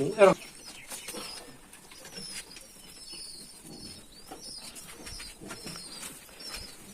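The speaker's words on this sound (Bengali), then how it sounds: "একশো দশটা কবুতর আছে" Pigeons in a loft holding about a hundred and ten birds, with a sharp burst of wing flapping at the start and soft intermittent coos and chirps throughout, while people talk nearby.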